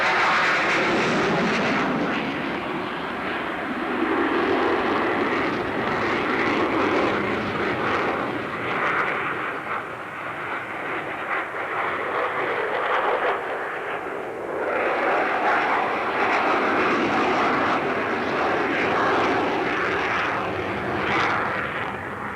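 F-16 fighter jet turning hard at a 1986 airshow in Abbotsford, its engine roar loud and continuous throughout, swelling and fading slightly as it passes with broadband jet rumble.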